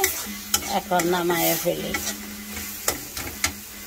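Small fish fry in mustard oil while a spatula scrapes and stirs them in the pan, a close crackling sizzle broken by sharp metallic knocks, with someone briefly speaking over it.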